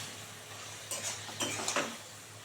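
A spoon scraping and clinking against a pan while stirring cauliflower curry masala with turmeric, three or four quick faint scrapes over a low steady hum.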